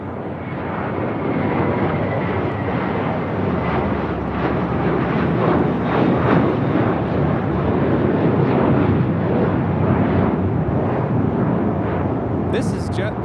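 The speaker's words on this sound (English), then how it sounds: "This is JetBlue 1874 taking off to Newark on an A321." A JetBlue Airbus A321 takes off from LAX, a loud, steady jet roar that holds throughout with slight swells, plus a brief sharper noise near the end.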